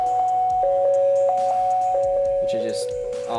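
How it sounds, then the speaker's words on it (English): Little bell sample in a GarageBand remix chimes in repeated bright dings over a steady drum machine beat, with a sustained tone running beneath and a voice speaking over the loop. "I got little bells."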